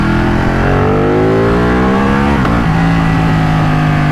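Ducati 1199 Panigale S engine revving hard and climbing in pitch, then a quick upshift via the quickshifter drops the note before it pulls again, loud and close with no talk.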